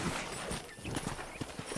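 Horse hooves clop in quick rhythmic beats as a horse is ridden across a ranch in the Red Dead Redemption video game, steady and fairly close, with no speech.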